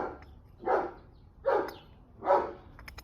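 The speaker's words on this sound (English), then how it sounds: "Fucking annoying ass dog." Dog barking in a garage-like space during motorcycle work, three distinct barks spaced roughly a second apart, moderately close and loud, with no speech over them.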